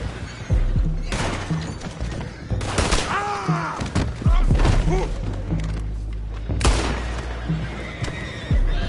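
Horses whinny in Red Dead Redemption 2, several high, wavering neighs rising over a busy outdoor scene with thumps, hoof clatter and bursts of gunfire, loud and fairly close.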